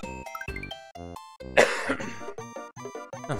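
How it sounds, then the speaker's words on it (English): Several sharp, close coughs and throat clearing cut in over bright chiptune music from a Super Mario game, with the loudest hacking cough in the middle. "I'm sorry that I've been coughing so much"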